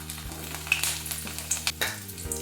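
Potatoes fry in four or five spoonfuls of hot oil, giving a dense, close sizzle broken by scattered pops and light spatula clicks against the pan, over a low steady hum; no one speaks.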